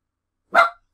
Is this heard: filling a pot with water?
no